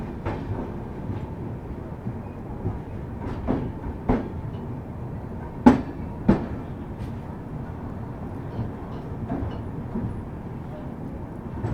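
Passenger train on the Delhi to Srinagar line running through the Kashmir route, a steady low rumble and rattle with a few sharp clacks and knocks, heard from inside the coach under faint background chatter.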